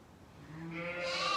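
Sheep in a barn during lambing season give a single rising bleat that swells from faint to fairly loud over a steady indoor background, with no talking.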